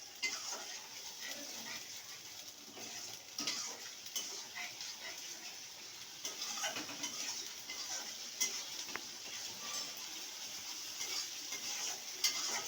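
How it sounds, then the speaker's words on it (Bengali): Spice paste for a spicy loitta (Bombay duck) fish curry is stir-fried in oil, a faint steady sizzle broken by intermittent scraping and clinks of a spatula against the pan, recurring irregularly throughout. "এবার মশলাটাকে ভালো করে কষিয়ে নেব।"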